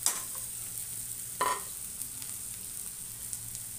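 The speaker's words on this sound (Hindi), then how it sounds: "इसको थोड़ा फ्राई करेंगे" Green chilies and garlic fry in a pan with softened onion for shepu (dill) bhaji, a faint, even sizzle broken by one brief spatula scrape.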